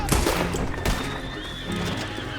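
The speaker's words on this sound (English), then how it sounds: "The sound of hooves grows louder as I listen to the lawmen approach from all sides" Horse hooves pounding amid a busy, loud Red Dead Redemption 2 soundscape as lawmen approach, with a horse whinnying and sharp bangs mixed in.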